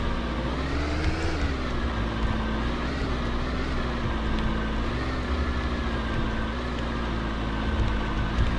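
A truck drives along in the Roblox game Lumber Tycoon 2, its engine droning continuously with a steady tone that rises and dips slightly, loud and close with no voices.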